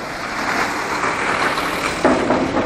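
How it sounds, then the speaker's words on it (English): Lorries rumble past on an industrial estate, a steady broadband engine and road noise with a heavier vehicle swelling closer near the end, no talk. "There's lorries going by"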